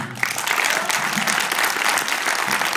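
Audience applause at an honour awards ceremony in Istanbul, a dense burst of hand clapping from a large room that holds steady for a few seconds.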